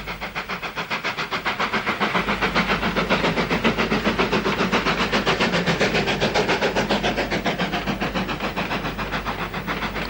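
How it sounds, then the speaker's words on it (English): Steam locomotive 2247 works hard hauling a three-coach train up a steep climb on the Brecon line, loud rhythmic chuffing beats steadily repeating with a hiss of steam, no voices. "the sound of an engine working hard and gradually getting closer signal the next train tackling the climb"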